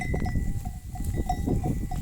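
Sheep and lambs on a farm, with repeated bell clanks and shuffling animal movement close by; no clear bleating stands out.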